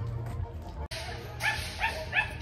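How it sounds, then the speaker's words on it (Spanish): Dogs bark and yip in a small-town street while walking through the village, with several sharp barks bunched toward the end over a constant low outdoor rumble. "Y ahí están mis perros."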